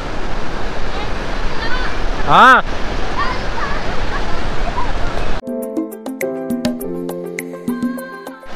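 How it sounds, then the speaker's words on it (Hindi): Waterfall water at Igatpuri hill station rushes under a small bridge as a loud, steady close-up roar, with a brief voice partway through, before music abruptly takes over. "इसके नीचे से पूरा वाटर पानी जो वाटरफॉल से गिरता है ना, ये ब्रिज के नीचे से जाता है"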